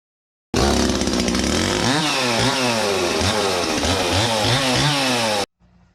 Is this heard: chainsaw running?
yes